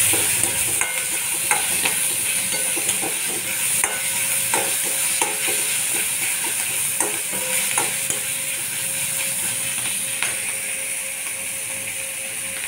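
Tomatoes with salt frying in a pan for a potato dosa filling, a steady close sizzle with repeated scraping stirs and clicks throughout, no voices.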